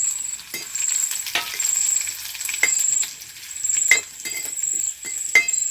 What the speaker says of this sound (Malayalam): ചെറുള്ളി ഒന്ന് മൂത്ത് വരുമ്പോൾ നമ്മളിതൊക്കെ വറ്റൽമുളകും കൂടി ചേർത്ത് കൊടുക്കുക